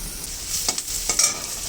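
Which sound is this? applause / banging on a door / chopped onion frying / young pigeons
chopped onion frying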